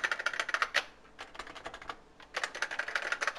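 Typing on a Realforce PFU Limited Edition keyboard with classic keycaps, brisk bursts of close key clicks in quick runs separated by short pauses.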